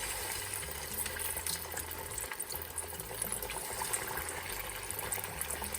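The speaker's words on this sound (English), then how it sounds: "once my empanadas are done, it's time to fry them" Vegan Colombian empanadas frying in oil in an old pan: a steady, dense sizzle and crackle that holds at an even level throughout, close by, with no talk.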